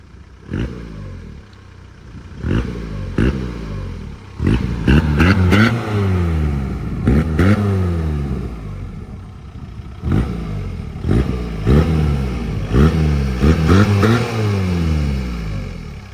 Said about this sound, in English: Here's some revs for you guys.